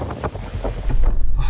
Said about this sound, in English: the rain is just like really heavy and it's so windy